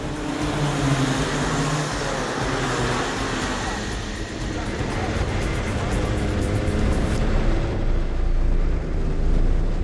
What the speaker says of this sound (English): Lights are out and we are away and racing.